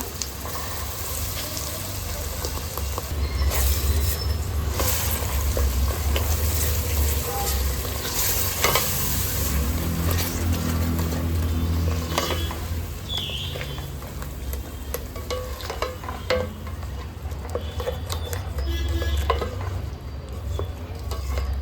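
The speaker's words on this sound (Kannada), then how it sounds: "ಮಸಾಲೆ ಚೆಂದ ಫ್ರೈ ಆಗಬೇಕು" Ground masala with red chillies fries for a mushroom gravy, a steady dense sizzle running throughout with occasional stirring scrapes and clinks, close and fairly loud with no talk.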